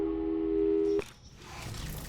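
Portal 2 phone call tone: a steady, loud electronic tone holding for about a second, then cutting off abruptly into quiet game ambience and faint noise.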